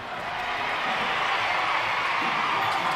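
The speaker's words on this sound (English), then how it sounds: "the crowd has come alive" Basketball arena crowd at a WNBL women's game between Townsville and Bendigo Spirit, a steady loud roar of cheering and noise filling the whole stretch without pause.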